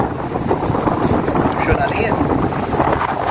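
Strong wind blows outdoors in heavy fog during a wheelchair outing, a loud, continuous rushing roar buffeting the microphone while a person speaks over it.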